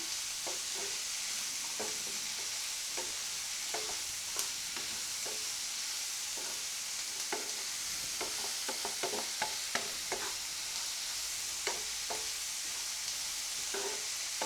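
Carrot and bitter gourd poriyal stirred in a pan, a soft continuous sizzle punctuated by frequent scraping strokes of a spoon, some in quick clusters, close but fairly quiet throughout.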